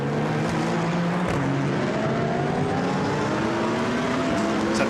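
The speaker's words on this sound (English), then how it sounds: "So the car's turning their way through the chicane." Race cars in a Blancpain Endurance Series race at Monza braking and downshifting into the chicane, several engines overlapping with falling and rising revs, loud and continuous with no talk.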